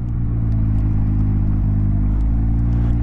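A Can-Am Ryker three-wheeler rolling onto a field path, its engine giving a loud, steady low rumble close by with faint whirring on top, no talking.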